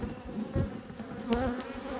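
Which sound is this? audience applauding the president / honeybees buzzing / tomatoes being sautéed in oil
honeybees buzzing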